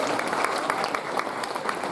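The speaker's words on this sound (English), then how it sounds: "big round of applause for my friend Jackson" A crowd at a kindness talk claps for a child named Jackson, a brief burst of steady, fairly soft applause with a hint of voices underneath.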